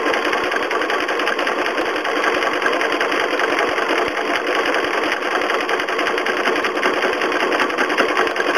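A sewing machine stitching applique details with brown thread, running as a fast, steady, close mechanical whir and rapid needle chatter throughout, with no talk.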